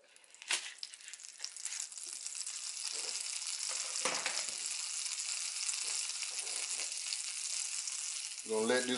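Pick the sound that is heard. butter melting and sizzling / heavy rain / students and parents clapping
butter melting and sizzling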